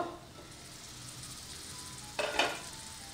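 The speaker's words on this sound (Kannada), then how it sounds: "ಈರುಳ್ಳಿ ಸ್ವಲ್ಪ ಟ್ರಾನ್ಸ್ಪರೆಂಟ್ ಆಗಲಿ ಈರುಳ್ಳಿ ಕುಕ್ ಆಗಿದೆ ಇದು" Onions cooking in a pan give a low, steady sizzle, broken near the end by a couple of short scraping stirs and a clink of a utensil against the pan.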